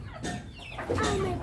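Chickens on a town poultry farm cluck in short, close, moderately loud bursts, several overlapping calls, with no talk.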